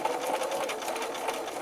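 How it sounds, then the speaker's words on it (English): A sewing machine stitches a quarter-inch seam down the long edge of pinned fabric for a table runner, a steady rapid needle clatter that runs close and even throughout. "I'm going to sew a 1/4 inch seam"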